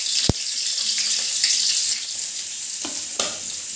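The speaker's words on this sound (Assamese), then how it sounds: "এতিয়া মই কাটি থোৱা কেঁচা জলকীয়াকেইটা দি দিছোঁ" Chopped green chilies frying in hot oil in a wok (kerahi), a bright continuous sizzle with a few sharp pops and spatters, close and loud with no talking.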